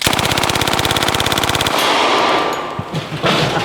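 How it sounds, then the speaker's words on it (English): A Thompson submachine gun fires full auto in one loud, rapid, evenly spaced burst lasting under two seconds, followed by echoing reverberation and a few faint clanks. "Either way, we have a Thompson submachine gun."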